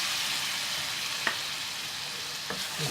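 Chicken korma fries in a pan with lemon juice added and gets a light stir, giving a steady close sizzle with two brief scraping knocks.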